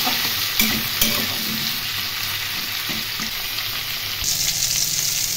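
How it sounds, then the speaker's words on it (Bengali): Ridge gourd and potato pieces frying in a pan, a steady, dense sizzle with a few soft stirring knocks, close and moderately loud, no talking. "ঝিঙে এবং আলু খুব ভালো করে ভেজে নেব।"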